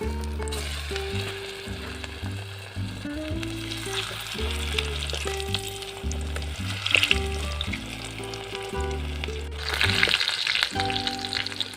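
Veg chops coated in batter and biscuit crumbs fry in hot oil, crackling and sizzling loudly and steadily up close, with occasional stirring and a swell of bubbling near the end over faint background music.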